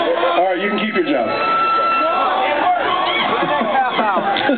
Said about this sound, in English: I made a cheap ploy for noise and applause.